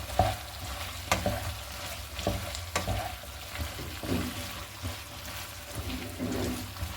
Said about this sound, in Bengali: পেঁয়াজটা খুব বেশি ভাজা ভাজা হবে না, এই জন্যই পেঁয়াজটা আমি একদম শেষের দিকে অ্যাড করলাম।